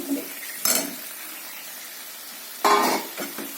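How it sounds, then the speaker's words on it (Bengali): Two bursts of sizzling and scraping as potatoes hit hot oil and are stirred in a pan, with quieter crackling between them. "তেল ছেড়ে দিয়েছি এখানে আমি আলুটা দিয়ে দেবো"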